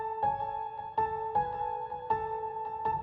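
A lofi piano melody from the Keyscape LA Custom piano, processed with drip, stereo shaper and delay, plays a series of sustained tonal chords that strike roughly every second, sounding airy and ambient with echoing tails.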